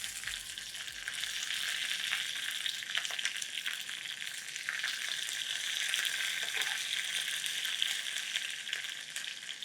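Green chillies fry in a tempering for chaddannam, giving a soft, even sizzle and a continuous crackling hiss that stays quiet and steady with no voices.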